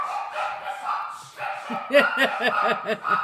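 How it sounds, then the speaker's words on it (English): Several dogs bark and yip in a quick burst of repeated barks indoors, fairly close, with talk and household sounds underneath at the start. "Here go the dogs."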